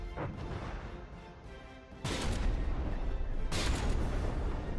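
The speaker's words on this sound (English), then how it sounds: "Got two ships just going broadside and wailing into each other." Naval cannon broadsides between warships in the From the Depths game: two sharp crashing volleys, one at about two seconds and another shortly after, over a low battle rumble.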